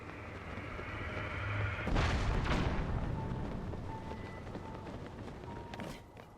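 Cannon fire in The Legend of Zelda: Tears of the Kingdom: one loud, deep booming blast rising out of steady game noise, followed by a rumbling decay and a fainter thud later.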